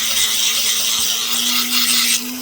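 A Dremel rotary tool grinds through rough opal picture stone, a loud steady high whine with a gritty abrasive hiss held close throughout, its pitch rising slightly near the end.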